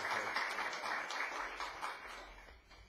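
An audience at a conference on arbitrary dismissal applauds a guest, soft steady clapping heard from a distance that fades slightly toward the end.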